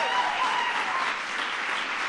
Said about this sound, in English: give Shelley a big round of applause for the great work